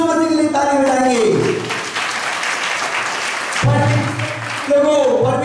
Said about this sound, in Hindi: जोरदार यीशु मसीह के लिए ताली बजाएंगे।